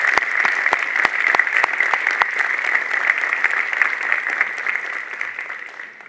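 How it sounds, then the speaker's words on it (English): A large graduation audience applauds parents and families at the Wahconah Regional High School 2023 ceremony, a sustained wash of clapping with a few sharp close claps near the start, slowly fading toward the end. "I would like to ask our graduates to join me in a round of applause for their parents and families"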